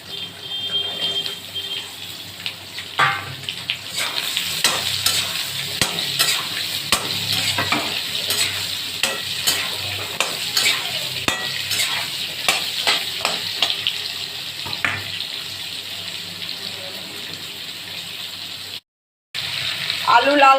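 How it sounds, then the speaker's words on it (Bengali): Potatoes fry with cumin seeds in a pan, a steady close sizzle broken by repeated scraping stirs, while a voice speaks at times over the cooking. "আলুগুলো একটু লাল লাল করে ভাজবো।"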